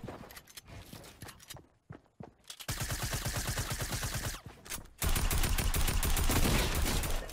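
Tactical Assault Rifle fire in Fortnite, rapid bursts of sharp shots, a loud sustained stream after a brief lull and then an even denser, heavier volley near the end, with footsteps between.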